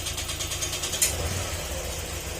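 A Honda Click scooter engine with hard starting after a tune-up and tight valve clearance, running at a low, steady idle with a faint rev bump, heard up close with no talk.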